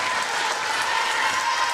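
A small but vocal crowd at a University of Glasgow basketball game, Scotstoun Storm vs Edinburgh University, gives a burst of steady, dense applause that holds evenly throughout, close and fairly loud.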